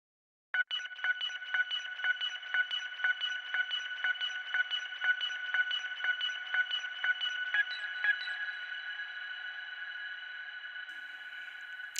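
A bright, twinkly synthesized tone pulses in a steady, rapid rhythm, then settles into a sustained shimmering ring with a reverberant tail.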